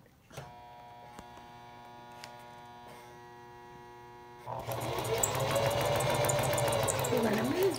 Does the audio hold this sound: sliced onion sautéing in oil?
no